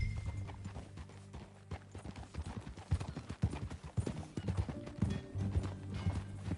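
A horse's hooves clip-clop at a steady riding pace in a Western video game, loud and close, with a brief whinny and faint background ambience.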